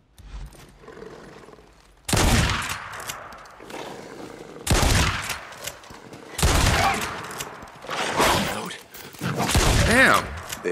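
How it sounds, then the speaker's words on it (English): Shotgun fire in the video game Days Gone, with loud broadband blasts at irregular intervals over about ten seconds, several heavy shots close together and a faint rumbling quieter stretch at the start. "Shotgun."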